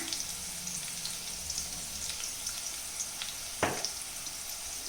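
Turmeric powder going into a hot iron pan, giving a soft continuous sizzle and hiss with a brief clink of a spoon partway through, fairly quiet and with no talking.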